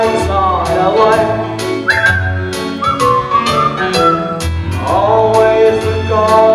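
Whistled melody of a cheerful singalong song, with a bright sustained tone gliding between notes over steady rhythmic backing beats.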